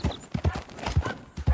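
Horse hooves clip-clop in Red Dead Redemption 2, a steady run of muffled thuds at a slow, uneven gait, close and moderately loud, with no talk over them.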